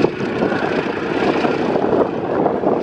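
Fairey Swordfish biplane at a RAF Valley families day air display, its radial piston engine droning loud and steady overhead with a rough propeller buzz, no talk.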